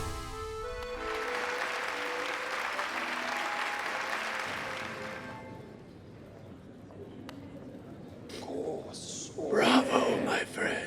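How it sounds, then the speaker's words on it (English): Applause from the Hollow Knight arena audience swells loudly for several seconds and then fades out, followed by quieter sparse sounds and a few bright, brief bursts near the end. "Bravo, my friend. Hear how the crowd adores you."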